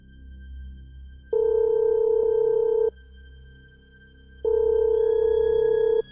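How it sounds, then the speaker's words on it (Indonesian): Two long electronic ringback tones sound while a phone call to a friend connects, each steady buzz lasting over a second with a quiet pause between, clear and alone. "Vino telepon lah temennya itu kan."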